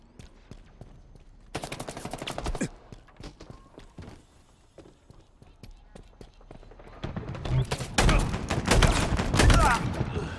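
Shotgun blasts in Halo Infinite, training mode, heard as a few loud, sharp bursts in two clusters with quieter game noise between them.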